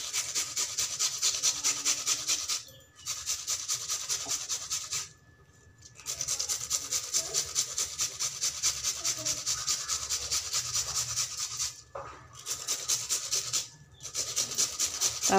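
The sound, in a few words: grating onions on a grater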